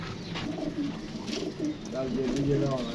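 Soft pigeon coos repeat in low, throaty phrases amid a busy background of rustling and murmuring voices.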